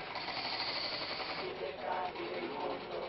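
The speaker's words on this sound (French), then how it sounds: "ponctué par les marteaux-piqueurs" Jackhammers pound at an earthquake-damaged site beside a tent camp, a dense, continuous rattling hammering that fills the air under a voice.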